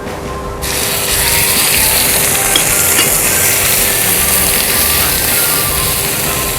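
Shrimp paste frying in hot vegetable oil over medium heat for a Thai stir-fry of prawns with sator beans and santol, giving a steady close broadband sizzle that starts abruptly and holds evenly throughout.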